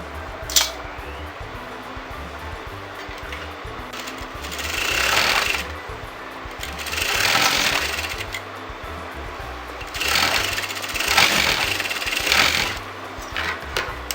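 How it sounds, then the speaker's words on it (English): A sewing machine stitches fabric pieces together for a pin-tuck top in bursts of rapid mechanical whirring, four runs of a few seconds each separated by quieter pauses, close and clear. "I'm going to sew that together"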